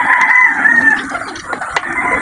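A rooster crows loudly and close by in a rural village setting during a holiday stay in Aklan, one long drawn-out call with a few clucking notes after it, and no talking.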